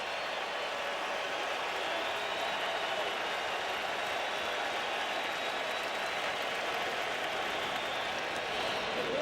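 A baseball stadium crowd at a 2010 playoff game between the Atlanta Braves and San Francisco Giants roars in a steady, broad wash of cheering that holds without pause, distant-sounding and even.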